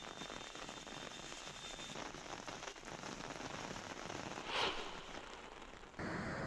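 Rain falls steadily on surfaces in Satara district during monsoon downpours, a soft, continuous patter with scattered drops, faint and unbroken across the whole stretch.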